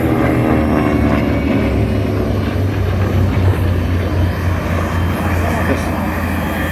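A WWII carrier warbird, a Grumman Avenger or Vought F4U Corsair, drones overhead at an air show with a steady, loud propeller engine roar throughout, and voices faintly present underneath.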